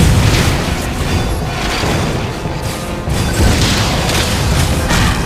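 A missile explodes in a sci-fi video game battle, giving loud, dense, rolling booms and crashing blasts that run on continuously and close-up.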